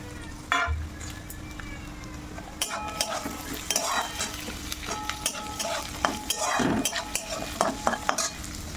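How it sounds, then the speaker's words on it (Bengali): Ingredients for fried rice being stir-fried in a pan, with busy scraping and clattering of a spatula against metal over a continuous sizzle, close and moderately loud, no talking. "এখন আমি এগুলো ভাজাভুজি করে তারপরে হচ্ছে রাইসটা করবো"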